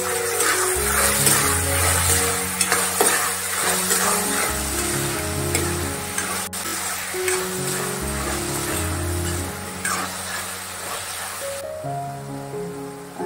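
Chopped onion hisses and crackles as it fries in oil and ghee for a Maharashtrian mushroom masala, a continuous bright sizzle with low background hum and occasional stirring, with no one talking over it.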